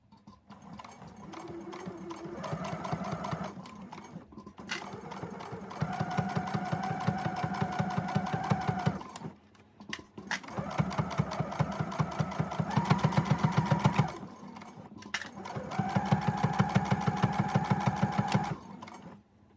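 A sewing machine stitches a crossbody bag strap in several long, fast, rhythmic runs. Each run is separated by brief pauses, and the motor's pitch shifts slightly between passes.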